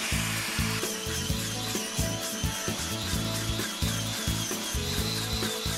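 A power tool grinds away paint and an old fiberglass patch inside a boat's anchor locker. It makes a continuous rough buzzing with pulsing, uneven strokes against the surface, sounding close and loud with no speech.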